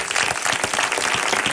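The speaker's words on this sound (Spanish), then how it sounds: "Yo pido un fuerte aplauso con la guitarra de Paco León." Audience applause at a flamenco forum, following an introduction of a cantaor with guitar accompaniment; a dense, steady wash of many hands clapping close and loud for the whole moment, with no voices over it.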